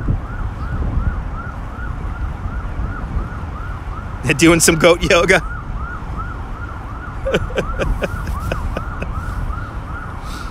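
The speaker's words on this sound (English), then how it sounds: "we got some sirens here coming along. That's actually the sirens coming along the street level" Emergency vehicle sirens wailing along a street in Brooklyn, a steady rising-and-falling tone with loud bursts of traffic noise in between, while a person speaks briefly over it.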